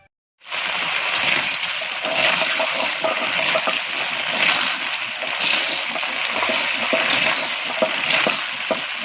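Cut taki fish being washed under running water, a loud continuous rush and splash close by that starts abruptly and runs steadily to the end.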